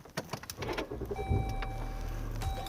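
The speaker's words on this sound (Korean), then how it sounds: "시동 한번 걸어보겠습니다." A Jeep Grand Cherokee Laredo with a 3.0 V6 turbo diesel engine starting: the starter cranks briefly, then the engine settles into a steady, low, muffled idle heard from inside the cabin, alongside faint electronic chimes.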